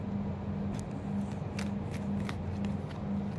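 Tarot cards shuffled by hand in a quiet room, a soft, faint rhythm of brushing riffles at regular intervals.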